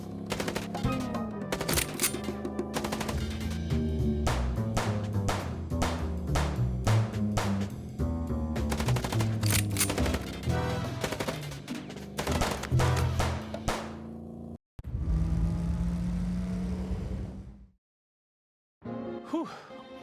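Rapid gunfire from the video game Chicken Police: Paint It Red, dense bursts of sharp repeated shots over music for most of the stretch, then a brief roaring blast and a pause before a few final shots.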